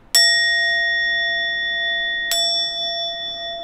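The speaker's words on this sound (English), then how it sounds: "The bell rings twice to signal the beginning of Kinhin." A Zen meditation bell at the Angel City Zen Center is struck twice to signal the start of kinhin walking meditation; each strike rings out bright and clear with a long, sustained shimmering decay in a quiet room.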